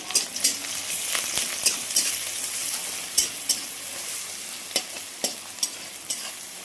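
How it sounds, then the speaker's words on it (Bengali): Onion and garlic sizzle steadily in a hot pan while a spatula stirs them, tapping and scraping at irregular intervals, close and with no talking. "পাট শাক ভাজবো, তার জন্য পেঁয়াজ রসুন সব একটু ভেজে নিচ্ছি"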